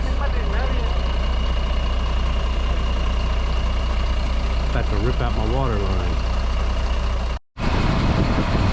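A truck idles with a steady low rumble at a muddy house build site in Udon Thani, Thailand, after heavy rain, running continuously under someone talking nearby.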